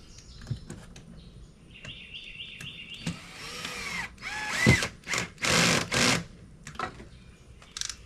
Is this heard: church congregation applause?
no